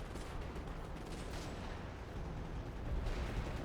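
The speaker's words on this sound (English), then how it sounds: "Stuka's coming down." Dense, continuous rumble of battlefield combat in a World War II strategy game as a Stuka dive bomber attacks, with booming blasts and gunfire merging into a steady roar that swells slightly toward the end.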